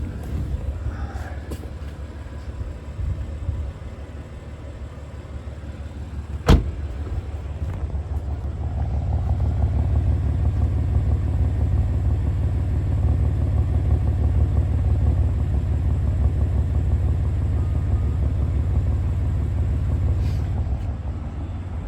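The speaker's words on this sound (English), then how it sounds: "I'll come around to the back of the car so you can hear the exhaust on idle" A 2016 BMW M4's exhaust at idle, heard from behind the car: a steady low engine rumble, continuous and close, with a brief sharp click early on and faint wind noise throughout.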